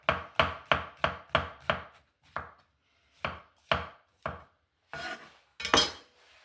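A knife chops mushrooms into small pieces on a cutting board while cooking chicken fillet in mustard sauce, first as a quick run of six even, crisp strokes, then slower, scattered cuts, close and clear with no talking.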